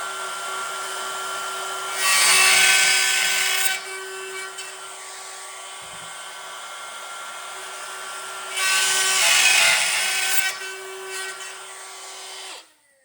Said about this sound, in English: You just use the dovetail bit there that I have in the router